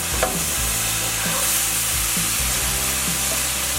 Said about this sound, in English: just stir this around and let the sauce get kind of crispy on each one